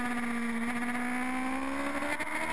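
Race cars heading into turn 3 make a sustained high engine whine that climbs slightly in pitch, steady and fairly distant with no talk over it.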